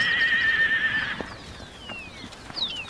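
A wild Australian Brumby horse whinnies with a high, drawn-out call, followed by fainter descending squeals against a quiet outdoor background.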